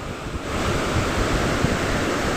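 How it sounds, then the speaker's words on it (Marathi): Rough, churning sea waves surge against the shore beside a coastal waterfall, a continuous loud roar of broadband water noise with wind buffeting the microphone. "खवळलेलं आहे पूर्ण समुद्र"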